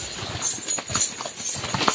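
Horse hooves clip-clop on a steep, slippery mountain trail in Tayabas, Quezon, a quick irregular series of close, hollow knocks over faint outdoor noise.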